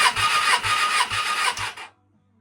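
A motorcycle engine cranking on the starter at full throttle during a compression test, a harsh rasping whir with four regular low pulses of compression, loud and close, stopping abruptly near the end.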